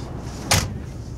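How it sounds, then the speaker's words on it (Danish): A door closes with one short, firm thump and clack against a steady low background rumble, with no voices. "Luk døren."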